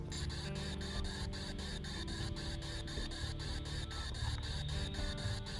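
A spirit box ghost-hunting device sweeps through radio static, giving a continuous hiss chopped into rapid regular pulses as it scans, fairly faint and uninterrupted.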